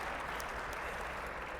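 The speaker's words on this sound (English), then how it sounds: "clap for Olivia, everybody." Steady applause from an audience, a dense wash of clapping holding at an even level throughout without pause.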